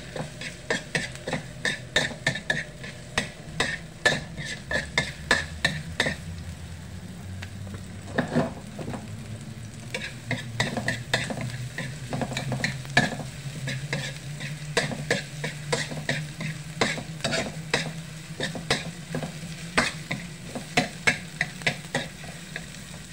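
Onion and garlic sautéing in a pan, with a steady sizzle under repeated sharp scraping and clacking of a utensil stirring against the pan, close and without talk.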